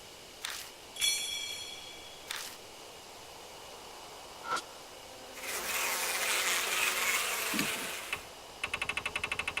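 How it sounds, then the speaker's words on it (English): In the Death Mark horror video game, a buzzing swarm of bees rises into a sustained drone after a few isolated clicks and chirps, ending in a rapid run of rhythmic ticking. "The buzz of bees filled the air."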